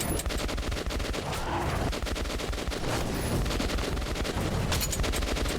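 Rapid gunfire in Metro 2033: dense, loud bursts of automatic shots crackle almost without pause for over five seconds, close and harsh, with no speech.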